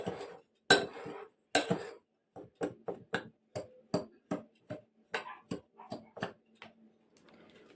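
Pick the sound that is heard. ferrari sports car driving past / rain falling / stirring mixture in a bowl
stirring mixture in a bowl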